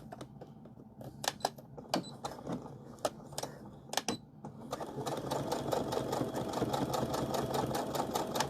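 A sewing machine stitches a casserole carrier, starting with a few separate short bursts and clicks, then running steadily and loudly in a fast continuous whir for the second half.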